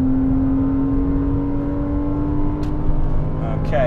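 Ariel Atom track car on the Donington Park National Circuit, heard as a loud, steady engine drone with a brief rising whine near the end as it goes past.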